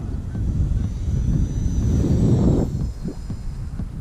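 A steady engine drone of a FliteTest FT Racer RC model airplane passing overhead, loud and constant before easing off slightly.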